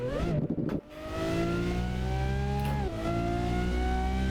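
Car engine revving hard in the Assetto Corsa racing game, a loud sustained drone with rising and falling pitch, briefly dipping near the start before climbing again, with no talk.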